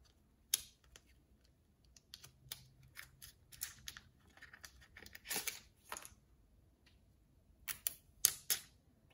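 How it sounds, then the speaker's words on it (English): Protective plastic film being peeled off a new GoPro Hero 9 camera, heard as sparse, close crinkling and crackling bursts separated by quiet gaps, without speech. "Let's peel off all this plastic."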